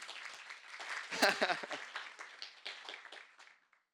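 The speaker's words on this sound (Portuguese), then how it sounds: "Uma salva de palmas para a nossa voluntária." Light audience applause for a volunteer at a talk, a modest burst of clapping with some voices mixed in, peaking early and thinning to scattered claps before stopping.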